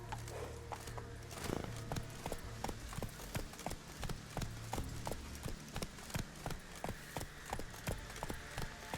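Roach the horse gallops in The Witcher 3, a steady rhythmic clip-clop of hooves running continuously and close, with loud regular hoofbeats throughout.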